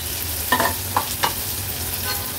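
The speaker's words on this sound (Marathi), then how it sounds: "नंतर एक मीडियम साईजचा कांदा आहे तो चिरून घेतला आहे, तो फोडणीला घालूया।" Chopped onion hitting hot tempering oil, a continuous sizzle with a few sharp stirring clacks near the start, close and fairly loud, no voices.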